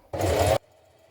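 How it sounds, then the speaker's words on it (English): A sewing machine runs a short, steady burst while stitching a shoulder seam on a beginner vest top, loud and close, then stops abruptly into near silence. "Stitch it, back tack at each end, and then cut it off."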